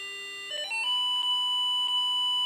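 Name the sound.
buzzer tone from antenna polarization demonstration receiver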